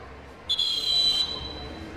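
Referee whistle blowing a long, shrill blast at an outdoor basketball final between two village teams, with a brief first note and then a held tone of under a second over crowd murmur.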